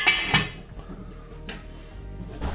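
A lid set onto a pot of seafood blanquette, sharp metallic clinks at the start, then a softer clatter and light kitchen handling noises.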